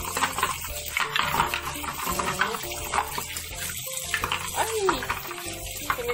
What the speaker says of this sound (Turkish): Şunu yıkayalım legoları.